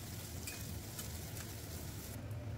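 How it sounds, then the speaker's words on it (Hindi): Vegetables stir-fried for Hakka noodles, giving a continuous close sizzle with a few soft scrapes of the spatula in the pan, steady and unbroken, with no speech. "इस तरह से हमें उसको भूनेंगे सब्जियों को"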